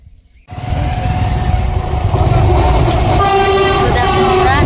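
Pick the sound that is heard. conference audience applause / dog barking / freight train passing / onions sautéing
freight train passing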